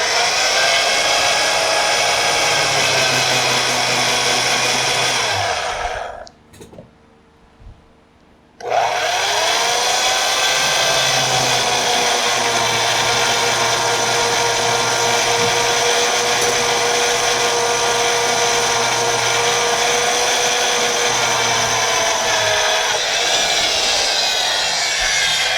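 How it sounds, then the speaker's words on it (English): Mag drill with an annular cutter bores through metal, a loud, steady whirring grind that stops briefly partway through, then resumes and runs continuously to the end. "Let's go ahead and drill the second hole."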